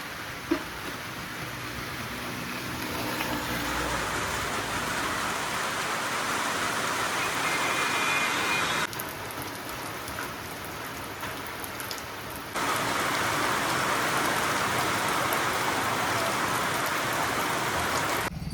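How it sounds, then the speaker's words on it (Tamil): Heavy rain pours down steadily in a dense, hissing wash of drops striking surfaces, close and loud throughout with slight shifts in intensity and no voices. "இன்னும் மழை ரொம்ப அதிகமாக வருதுப்பா"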